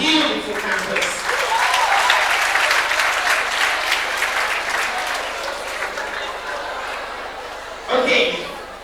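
A university campus audience claps loudly and continuously, with a few chuckles mixed in, and the applause fades into murmuring before a short final burst near the end.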